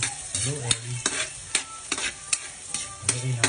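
Garlic sautéing in a pan for kilawin, with a steady sizzle broken by repeated scraping stirs of a spatula, close and fairly loud, with no talking.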